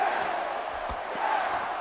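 A WWE 2K16 wrestling crowd at WrestleMania sends up a dense, continuous roar of cheering that holds steady for the whole moment.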